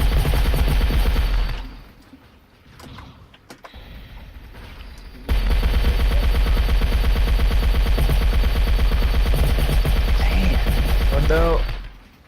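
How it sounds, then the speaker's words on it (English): Rapid bursts of video game gunfire rattle loudly and close, broken by a short quieter stretch before resuming in dense volleys, with a player's voice reacting over the shooting. "Where's those shots coming from?"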